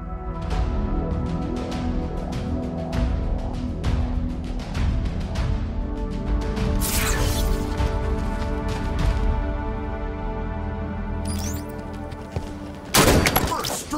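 Sustained gunfire in Halo 5 Legendary multiplayer, with dense rapid shots running continuously, a couple of sharper bright bursts near the end, and a voice speaking briefly over the shooting.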